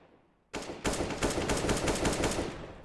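A decoy grenade in the game CS:GO imitating gunfire: sudden loud bursts of rapid automatic shots, one quick shot then a steady rattling volley lasting about two seconds, close and alone.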